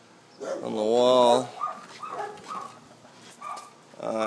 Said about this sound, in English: Neighbors have a dog.